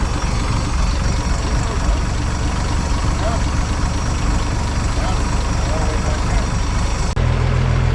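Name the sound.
vintage boat engine running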